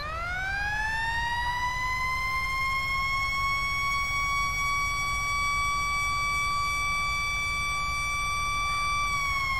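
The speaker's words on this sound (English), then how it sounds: "So main siren." Main police siren from a GTA 5 siren mod, a loud continuous rising-then-steady electronic wail, sustained without pause and heard alone.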